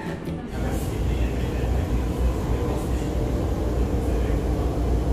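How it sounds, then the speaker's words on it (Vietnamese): Inside a Taiwan metro train in motion, a steady low rumble and rolling hum fill the car, loud and continuous with no talk. "Tàu điện ở Taiwan"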